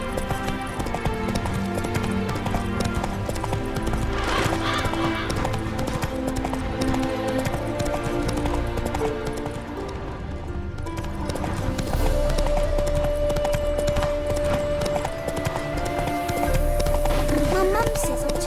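Roach the horse gallops in The Witcher 3 video game, hooves clip-clopping in a steady rhythm under music and talking voices, moderately loud throughout.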